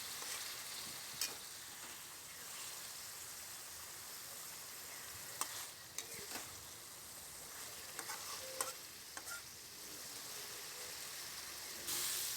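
Shrimp-stuffed pointed gourd curry cooks in a pan, giving a soft steady sizzle with occasional stirring scrapes and clinks, close and quiet, with no talking.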